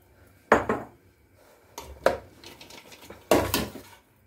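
A cooking pot and dish are handled in a home kitchen, giving three distinct clattering clanks spaced about a second and a half apart, moderately loud and close, with faint rattles between them.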